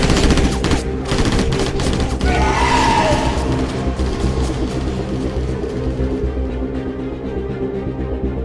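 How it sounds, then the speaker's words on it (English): Loud, dense automatic gunfire rattles continuously with a crash in the middle of a sci-fi audio drama firefight, a sustained barrage that never lets up. "Shots fired! Open fire!"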